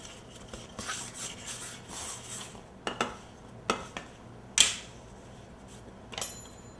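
A plastic fondant smoother rubs and scrapes around fondant on a topsy-turvy party cake, soft brushing strokes broken by a few sharp clicks and knocks against the cake board, close and fairly quiet.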